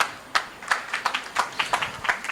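A small crowd at a Hindi festival stage ceremony in Jamshedpur gives a short round of scattered, uneven claps to welcome college representatives. The clapping is fairly close and modest, with no cheering.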